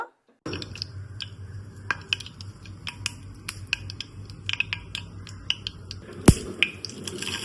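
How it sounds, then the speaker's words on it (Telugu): Tempering spices crackle and pop in hot oil for a chutney, giving dense, irregular sizzling with sharp snaps scattered throughout and one loud pop near the end, close and without talk. "నూనె బాగా కాగాక మనం తీసుకున్న తాలింపు దినుసులు వేసుకున్నాము"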